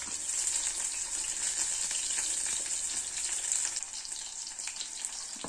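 Eggplant pieces fry steadily in oil in a pan, a dense, bright, continuous sizzle heard close up with faint clinks of stirring and no talking.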